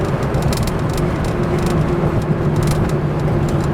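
Porsche 911 engine with a Racing H 901/902 transmission, cruising in fourth gear at about 40 mph and 2,500 RPM, giving a steady, loud low drone with road rumble throughout.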